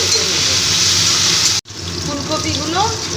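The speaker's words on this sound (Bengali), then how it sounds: "লাল লাল করে ভেজে নিয়েছি এবার তুলে নেব" Cauliflower florets dusted with turmeric fry in hot oil, giving a loud, steady broadband sizzle that cuts out for a moment, then resumes with voices faintly underneath.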